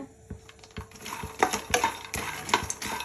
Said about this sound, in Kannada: ಕಡಲೆಕಾಯಿ ಬೀಜ ಹುರಿದಿದ್ದಾಗಿದೆ